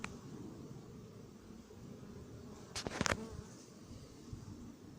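Steady, low insect buzzing from many bees around a hive fitted with an anti-hornet tent fills the air, with a brief louder flurry of wings passing close by midway.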